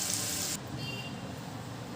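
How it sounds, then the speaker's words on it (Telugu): Garlic frying in hot tempering oil poured over mango pickle pieces, a steady close sizzle that starts bright and sharp and then settles into a softer, continuous crackle. "ఆ హీట్కి వెల్లుల్లిపాయలు కొంచెం వేగుతాయండి."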